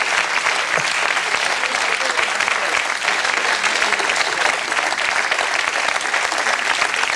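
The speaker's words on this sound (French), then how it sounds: "que vous vous leviez et que vous l'applaudissiez longuement" A television studio audience gives a violinist a long ovation, loud, dense, unbroken applause holding steady throughout.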